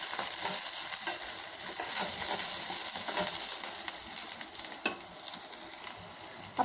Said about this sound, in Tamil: வரமிளகா 1, கருவேப்பிலை 2 கொஞ்சம் இதையும் சேர்த்து நல்லா வதக்கி விடலாங்க.